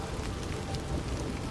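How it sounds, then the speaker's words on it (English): Rain falls steadily on a surface near maize fields, a dense even patter with no pauses and no voices. "Even as the rain continues to fall and the fields begin to stir with new life, Hassan stands at the edge of his maize patc"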